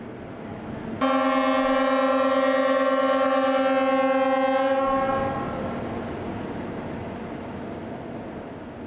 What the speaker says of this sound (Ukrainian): згадуємо про всіх загиблих під гудок честі від усіх українських локомотивів